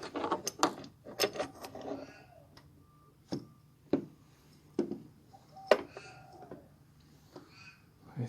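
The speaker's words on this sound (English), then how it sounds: "This is how you just slide in there and unscrew it" A wrench working loose the oxygen sensor on a Land Rover Freelander 2, irregular metallic clicks and ratcheting taps, louder at first and then spaced out, close to the microphone.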